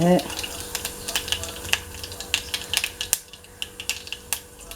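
Mustard and fenugreek seeds splutter in hot oil, a close run of sharp, irregular pops and crackles crowding together over a faint background hiss.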